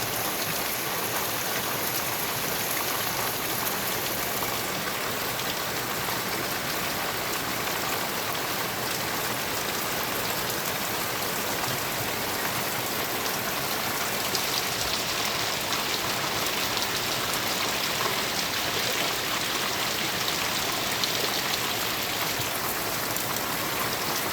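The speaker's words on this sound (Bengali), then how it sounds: "বৃষ্টি শব্দ শুনতে খুবই ভালো লাগে" Heavy rain pours down in a dense, unbroken hiss, loud and steady throughout with no voices.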